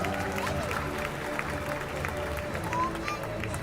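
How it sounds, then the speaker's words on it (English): A school annual day audience applauds for Blue House, a steady, diffuse wash of clapping with crowd noise and some voices mixed in throughout. "Blue House's journey truly deserves an applause."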